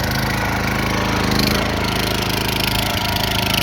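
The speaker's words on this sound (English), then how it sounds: "Take out that choke. Crank up the throttle." A Cub Cadet RT 65 belt-driven garden tiller engine runs with the choke off and throttle cranked up, a loud, steady, close drone with a slight pulsing beat.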